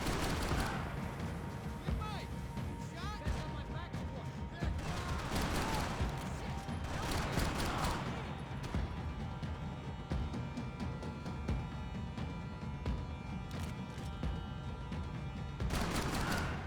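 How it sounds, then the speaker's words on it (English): Gunfire from the video game Max Payne 3 rattles in repeated bursts under game sounds and a talking voice, moderately loud, with a few heavier blasts. "Gunfire over Hoboken."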